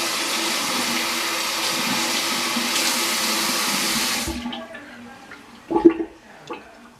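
A tap runs water in a steady rush to wet a makeup sponge, then shuts off, leaving a few soft splashes and squeezes close by.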